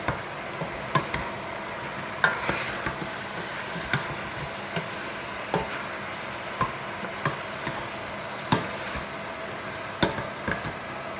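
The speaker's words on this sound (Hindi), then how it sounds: "अदरक लहसुन के पेस्ट के साथ भी 2-3 मिनट इसकी बुनाई कर ली है।" Chicken fries with ginger garlic paste in a pan, giving a low, steady sizzle punctuated by regular clacks of a spoon stirring against the pan.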